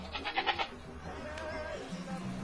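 Goats bleat in a short cluster of wavering calls near the start, then a quieter call follows over a low background murmur.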